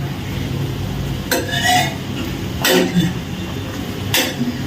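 A spoon scrapes and clinks against a pot of potato and tomato curry, three distinct stirring knocks spaced about a second and a half apart over a low steady background hum.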